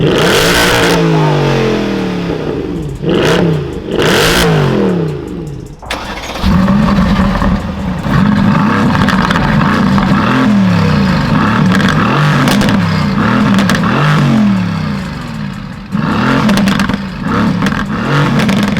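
A Mercedes C63 AMG with a stage 1 tune at about 545 horsepower and an AMG GTS rev hard, loud and close, with repeated throttle blips, a brief dip near the middle and sustained roaring revs, no talk over them.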